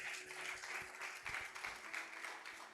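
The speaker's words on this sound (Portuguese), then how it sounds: "Vamos dar uma linda salva de palmas." A church congregation applauds during a service, a faint, continuous patter of many hands clapping with a few muffled thumps, heard from a distance.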